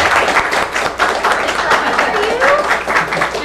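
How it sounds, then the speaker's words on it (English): A congregation claps steadily at a baby dedication, dense applause that continues throughout, with scattered voices mixed in. "It's all right to clap."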